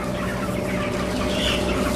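Dense clucking from many chickens fills a chicken shed, a steady, loud flock murmur with overlapping calls and no speech.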